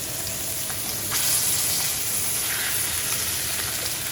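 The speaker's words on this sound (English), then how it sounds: "I'm going to put the meat side down" Short ribs sear meat side down in a large, very hot pot, a loud continuous sizzle close up with crackling bursts that swell briefly as pieces go in.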